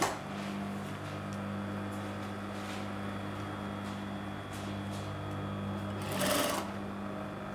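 A sewing machine stitching a curved fabric seam with a 1 centimetre seam allowance, a steady close motor whir and needle hum running continuously.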